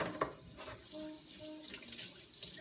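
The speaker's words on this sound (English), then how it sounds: "I'm going to rinse the meat." Meat rinsed under a running kitchen tap, a faint, continuous splash of water with small clatters from a pan or sink.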